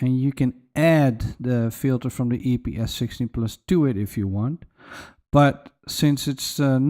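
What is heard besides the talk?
No everyday noise stands out behind the speech.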